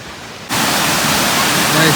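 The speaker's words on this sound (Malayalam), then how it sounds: "നിങ്ങൾക്ക് സൗണ്ട് കേൾക്കുന്നുണ്ടോയെന്ന് അറിയില്ല വെള്ളത്തിന് നല്ല ഒച്ചയാണ്" Rushing water roars near a village pond in Wayanad during rain, a sudden loud broadband wash that starts abruptly and continues evenly and close.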